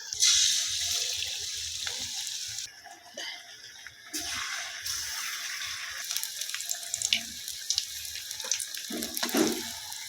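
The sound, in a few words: water running from a tap, washing aubergine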